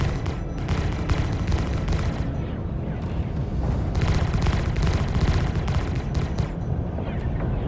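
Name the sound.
repeating cannons firing in the video game Star Citizen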